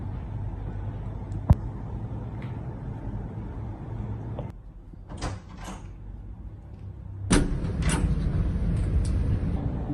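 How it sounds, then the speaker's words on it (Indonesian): A door of a house being opened, with a short creak and mechanical clunks, then a louder scrape as it swings, over a low steady hum, with no speech. "Saya buka pintu dulu ya."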